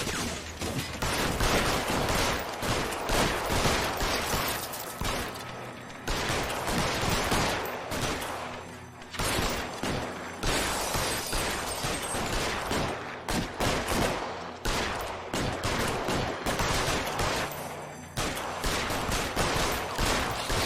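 Shootout gunfire in the video game L.A. Noire: loud, sustained bursts of rapid gunshots and volleys, nearly continuous for twenty seconds with brief pauses, close and dense.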